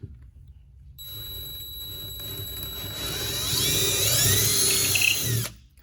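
A power drill bores a hole through a cargo bike from the back, its whine starting abruptly, rising and straining louder up close for a few seconds before cutting off.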